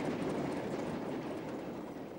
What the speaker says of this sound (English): a DMU on the LNWR main line in central Birmingham crosses the Midland main line near Saltley